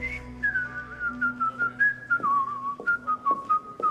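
A man whistles a bright melodic tune alone, the clear sustained notes gliding and stepping between pitches in short phrases, close and steady over a faint low hum.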